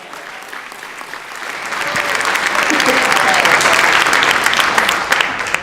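An audience at an honoree award event breaks into applause, quiet at first and building to a loud, steady wash of clapping that holds before easing slightly at the close.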